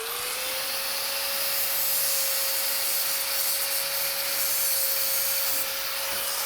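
A cutoff wheel grinds steadily through metal on the chassis of a '57 Chevy gasser, a loud, continuous close-up hiss with a high steady whine from the spinning tool, running unbroken throughout with no talking.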